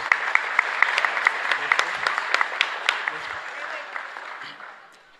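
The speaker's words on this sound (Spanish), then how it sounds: "Un fuerte aplauso también para ellos." A church congregation at Mass applauds the altar servers, a dense steady clapping with distinct individual claps standing out near by, gradually thinning and fading toward the end.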